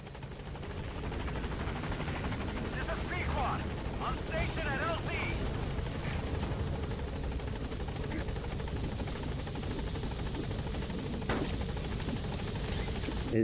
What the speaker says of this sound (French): Notre hélico arrive.